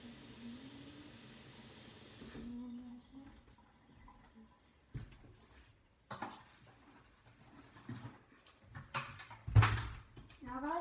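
Water pours into gluten-free vegan chocolate cake batter in a home kitchen as a steady close hiss lasting a couple of seconds. A person then talks, with faint clinks and kitchen handling sounds between phrases.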